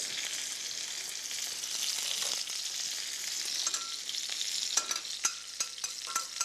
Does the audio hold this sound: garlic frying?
yes